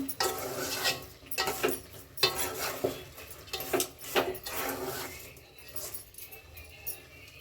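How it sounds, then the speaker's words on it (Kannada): Village-style chicken sambar stirred in a pot after salt goes in, repeated scraping and rubbing strokes of a spoon against the vessel, close up, with a voice speaking over part of it. "ಉಪ್ಪು ಹಾಕೊಂಡು ಒಂದು ಸಲ ತಿರುಗಿಸಿ"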